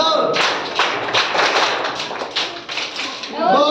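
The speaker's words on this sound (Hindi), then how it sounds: "धन्यवाद ताली बजा।" A class of schoolchildren claps as thanks, a dense burst of rapid clapping with a few louder rhythmic waves, lasting several seconds, with a teacher's voice briefly at the start and end.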